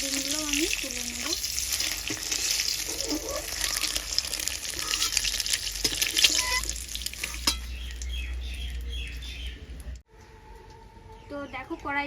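Eggs frying in a wok with hot oil, giving a steady close sizzle broken by a spatula scraping and stirring, while a voice talks over the cooking.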